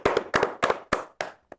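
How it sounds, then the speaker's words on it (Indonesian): A small group clapping at a casual talk show session with a film cast, about six sharp bursts of claps in uneven rhythm, close and crisp, ending with a single last clap. "Tepuk tangan dong."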